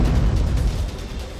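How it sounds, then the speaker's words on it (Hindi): A large explosion in the city of Qom, Iran, destroying a housing complex, reportedly from a gas leak, comes through as a loud, deep, rumbling boom that rolls on without a break. "सबसे पहला धमाका ईरान के कोम शहर में हुआ।"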